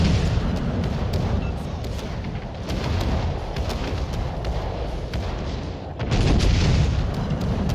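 Warship secondary guns firing in the video game World of Warships: Legends, a continuous loud rumble of booms and bursts with a heavier surge near the end.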